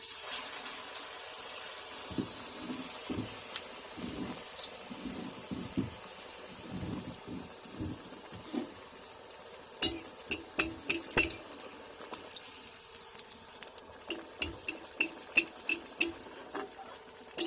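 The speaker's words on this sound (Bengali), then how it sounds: "আমি সব একে একে চপগুলো তেলে ছেড়ে দিচ্ছি।" Pea chops dipped in gram flour batter and fried in hot oil: bubbling sizzle runs throughout, with soft drops and thuds as pieces go in, then a rapid run of crisp clinks and taps near the end.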